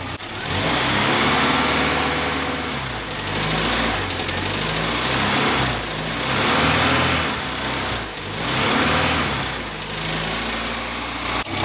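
Ford Escort Mk2 engine idling without a throttle linkage, a loud, steady mechanical drone with a rattly edge that swells and fades in slow waves, with no voices.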